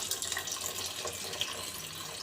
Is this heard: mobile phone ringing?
no